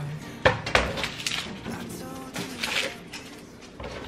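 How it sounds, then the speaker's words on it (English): A kitchen knife chops through an onion on a cutting board, giving a few sharp knocks and clicks against the board with light clattering in a home kitchen. "I'm just gonna cut the ends off the onion and then cut"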